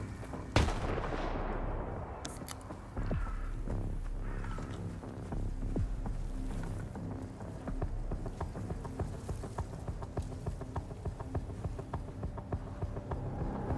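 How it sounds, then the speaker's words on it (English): Combat in the video game STALKER 2, with a heavy grenade blast near the start followed by repeated booming explosions and bursts of gunfire rumbling on through the fight. "You guys quit it with the grenades."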